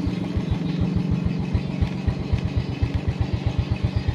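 A Suzuki Smash motorcycle with a sputtering fault that won't take throttle runs close up, its single-cylinder engine beating in a fast, even putter that lifts slightly with the throttle, no talk over it.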